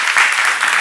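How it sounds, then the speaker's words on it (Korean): A church congregation claps together during a sermon, making a brief, dense burst of applause that is loud and close. "박수 한번 쳐보세요."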